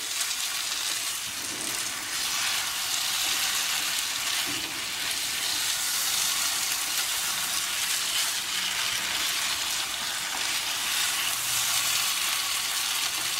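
Chicken bhuna darbari sizzles and fries hard in a pan, a dense, loud, continuous hiss with no pauses and only faint stirring beneath it.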